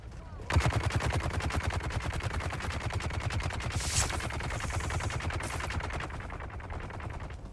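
Gunfire in the video game Dune Awakening rattles in a continuous rapid automatic burst, sustained and fairly even for several seconds at moderate loudness with no talk over it.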